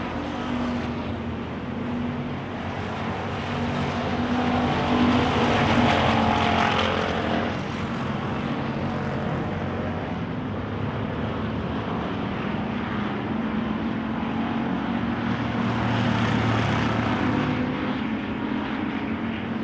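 Wissota pure stock race cars circling a dirt oval at night, a continuous droning roar of engines that swells and fades as cars pass, heard at a moderate distance with no talk.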